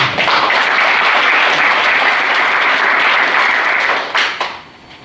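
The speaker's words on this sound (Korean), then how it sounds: "이 모든 분들에게도 다시 한번 박수를 부탁드리겠습니다" An audience at an alumni association's regular general meeting in the central region applauds loudly, a thick burst of clapping that holds steady and then tapers off quickly at the end.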